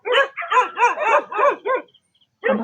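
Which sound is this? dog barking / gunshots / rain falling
dog barking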